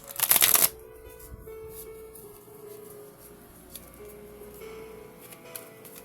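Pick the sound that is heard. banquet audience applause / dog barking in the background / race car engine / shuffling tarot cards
shuffling tarot cards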